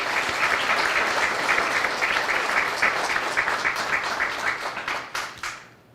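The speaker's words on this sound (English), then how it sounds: "Let's take a moment to show our appreciation with a round of applause for our instructors." An audience at a probation corrections officer academy graduation gives a sustained round of applause for the instructors, dense and even clapping that thins into scattered claps before fading out.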